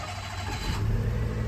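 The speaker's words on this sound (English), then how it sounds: "let's start the car" A small K car engine cranks and catches, then settles into a rising mid-pitched idle over a second and a half, heard close with no voices.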